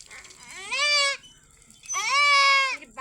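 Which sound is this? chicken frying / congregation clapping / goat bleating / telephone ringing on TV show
goat bleating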